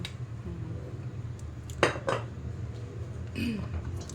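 Utensil scraping and clinking against a pan while stirring a Thai-style stir-fry with spring onions, a few distinct clatters standing out over a steady low background hum, close and moderately loud.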